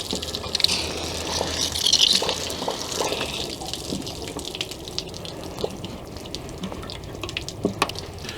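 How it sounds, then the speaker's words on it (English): Water gushing and splashing as an RV water heater tank is flushed out under pressure, a steady rushing flow with occasional drips and clanks, close and continuous. "turn the water pressure on, and flush this thing out"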